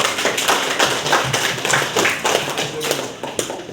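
A group claps in a continuous burst of applause, many hands overlapping at close range.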